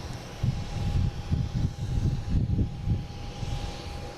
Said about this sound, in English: We have the third A330 heading to London Heathrow. So we got this guy landing.